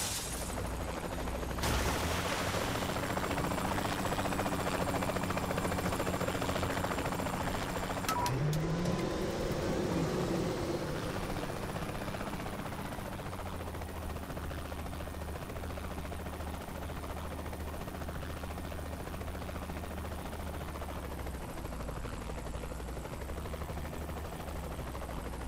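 Helicopter in a live-play action video game during an explosives rescue mission, a steady rotor drone running throughout amid bursts of gunfire and other game noise, loud and close.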